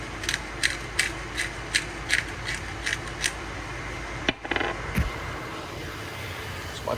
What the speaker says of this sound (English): grind a little pepper